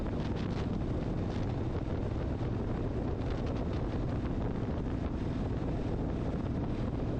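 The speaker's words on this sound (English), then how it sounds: "There's some crazy wind coming down through here all day." Strong, steady wind roars and buffets the microphone continuously, a dense low rumble with gusting surges, heard along the road between Northeast Harbor and Southwest Harbor on Mount Desert Island.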